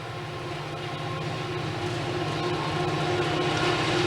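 A freight train grinds up Tennessee Pass in the Rocky Mountains at slow speed, a steady, loud rumble of engine drone and rolling cars that swells gradually, with no voices.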